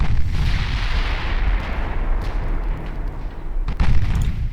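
Battle cruiser guns firing in the Ultimate Admiral Dreadnoughts naval game: a dense rumbling roar of distant cannon booms, with a couple of sharper blasts standing out near the end.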